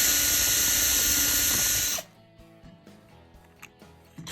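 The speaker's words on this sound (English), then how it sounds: "now we need to drill for our screw holes for our pocket hinge" A power drill bores screw holes about 3/8 inch deep for a pocket hinge in a Shaker-style cabinet door: a loud, steady whirring grind for two seconds, then it stops, leaving quiet clicks and handling noises.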